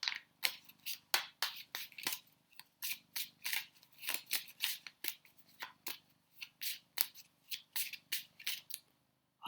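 Lover's Oracle cards shuffled and handled in a steady run of crisp riffling and rubbing sounds, close and fairly quiet, repeating in quick bursts throughout with no talk.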